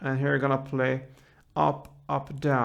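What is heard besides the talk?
No everyday noises stand out.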